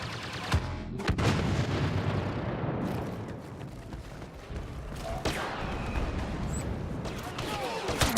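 Rebel bombers make an attack run in the Star Wars Battlefront video game, sending heavy booms and a rolling barrage of blasts through the scene, with a sharp burst near the start and continuous rumbling fire afterward.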